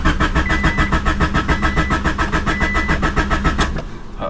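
A rusty Honda Civic with a 6-speed cranks loudly and close in a fast, even starter rhythm that keeps churning without the engine catching, then cuts off.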